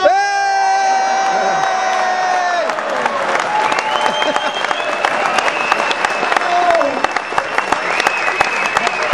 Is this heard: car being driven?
no